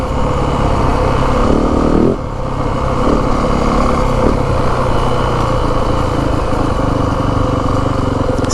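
A 2025 Yamaha WR 450F dirt bike engine runs steadily and close up, with a loud, buzzy, even note and slight shifts in revs throughout.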